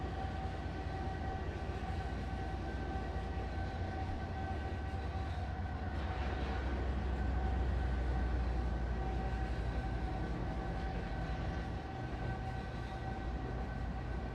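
A Union Pacific train rolls past in the Trainz railroad simulator on a Soldier Summit route, a steady continuous rumble with sustained tonal hums that swells slightly midway and then eases, heard alone without talk.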